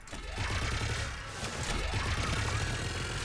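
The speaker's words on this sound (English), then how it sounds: "Oh, this gun is not the most accurate straight away" Rapid sci-fi gunfire from a weapon in Mass Effect 3 Legendary Edition, a dense rattling burst of shots with sweeping whine effects, loud and continuous.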